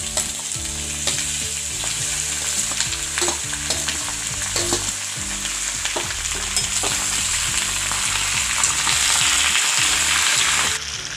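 Chicken frying in a pan with masala: a loud, continuous sizzle with repeated stirring and scraping strokes, steady for the whole stretch.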